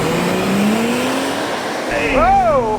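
A Land Rover Defender 130 Outbound accelerates hard in sport mode, its engine revving high and shifting through gears at around 6,500 to 6,700 RPM, loud and continuous with rising pitch sweeps after a shift.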